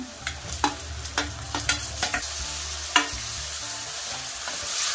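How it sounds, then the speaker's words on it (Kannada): Tomatoes fry in a pan for a Kannada fish curry, a steady close sizzle broken by repeated sharp scrapes and taps of a spoon stirring against the metal. "ಇದನ್ನು ಹಾಕಿ ಸ್ವಲ್ಪ ಸ್ಮ್ಯಾಶ್ ಆಗಲಿ ಅಲ್ಲಿವರೆಗೂ ಚೆನ್ನಾಗಿ ಫ್ರೈ ಮಾಡ್ಕೊಳ್ಳಿ"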